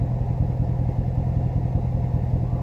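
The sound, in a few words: pickup truck engine idling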